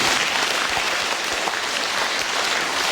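Audience applause at a Christmas charity concert in a philharmonic hall, a dense, steady wash of many hands clapping close and loud for the full length, with no talk over it.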